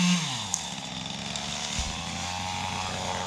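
Ported Husqvarna chainsaw, a 340 or 440, revving hard while clearing snags and small trees at a cabin site; a steady, loud, buzzing high-rpm whine with a slight pitch dip near the middle, close by and with no talk.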